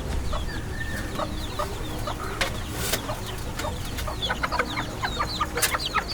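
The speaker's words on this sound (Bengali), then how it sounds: "দেখুন সকালবেলা মুরগির খোপ থেকে আমরা সেই মুরগি নিয়ে যাবো।" Free-range village chickens cluck and chatter in a morning coop, a dense mix of overlapping calls and short squawks at close range, with no one speaking.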